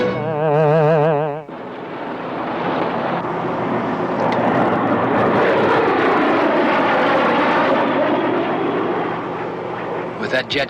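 Jet aircraft flying overhead, a loud roaring pass that swells and sweeps in pitch for most of the stretch, after a brief burst of dramatic music at the start.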